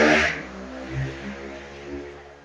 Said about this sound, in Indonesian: Motor gede.